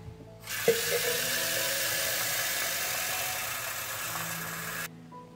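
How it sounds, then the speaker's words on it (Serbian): A litre of water pours steadily into a steeped homemade ant-spray mixture to dilute it, a constant mid-level splashing rush lasting several seconds before stopping abruptly. "I sada ću razblažiti sa litrom vode."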